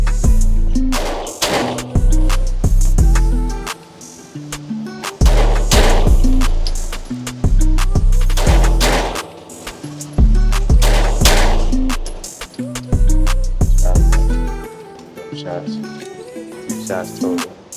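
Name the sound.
Glock pistol shots fired rapidly in a shooting drill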